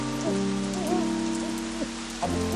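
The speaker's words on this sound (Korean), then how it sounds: "친정에 간 다음 날 아침부터 주룩주룩 비가 내렸습니다." Heavy rain pours steadily in one dense, unbroken hiss on a morning at a family home, with soft tonal music running underneath.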